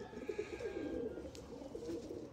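A flying pigeon coos softly in a low, rolling murmur, steady and somewhat distant through the short stretch.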